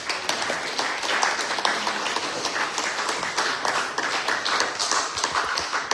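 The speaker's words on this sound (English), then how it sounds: "thanks everyone for the applause" A church congregation applauds steadily, a dense wash of many hands clapping at moderate volume without pause.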